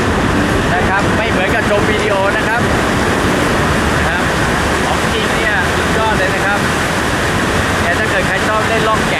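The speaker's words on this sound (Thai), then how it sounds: "เสียงน้ำเนี่ยตก แรงเลยนะฮะ" Water crashing hard through Tiger Leaping Gorge, a loud, dense, continuous roar of falling and churning water with wind buffeting the microphone, unbroken from start to finish.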